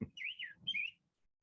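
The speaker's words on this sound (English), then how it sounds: "Oh, the birds chirping" A bird gives two short, clear chirping whistles in quick succession, faint and fairly close, then falls quiet.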